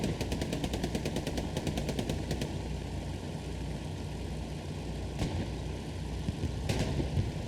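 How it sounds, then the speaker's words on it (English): Tank machine gun fire in the WWII video game Hell Let Loose, rapid bursts of gunfire early on over a heavy, steady engine rumble, with a few later single shots. "Drunk with the AT, going to get dropped by the machine gun of the tank."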